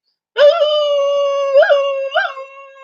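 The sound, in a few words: dogs howling at a fire truck siren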